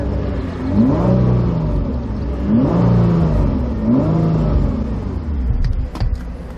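A sports car engine revs up three times in a row, each rise and fall of the throttle rumbling close by, then settles to an idle.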